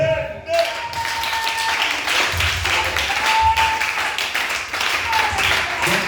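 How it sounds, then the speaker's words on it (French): A church congregation bursts into sustained applause, a dense wash of clapping that swells and continues for several seconds, with voices talking and calling out over it. "Acclamez le Seigneur"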